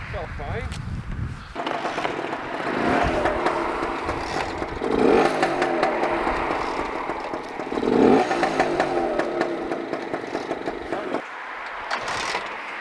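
Lambretta scooter engine chugging, sputtering and catching, a few rough uneven bursts that settle into running and then cut off, with people talking nearby.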